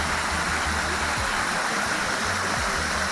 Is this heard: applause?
no